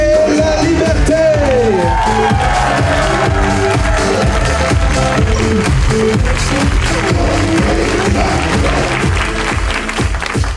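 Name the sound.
audience cheering to welcome guests at podcast show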